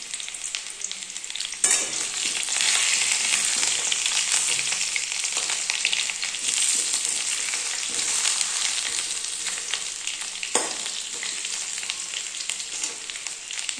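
Fritters fry in hot oil, giving a continuous bright sizzle with a couple of sharp clatters from stirring, close and steady throughout.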